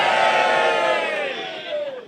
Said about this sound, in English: Now give me a cheer if you'd love to punch James Corden in his fat fucking face.